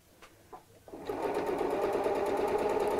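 A sewing machine stitching fabric for a storage cube runs in a steady, fast mechanical whir after a few soft clicks, continuous and close.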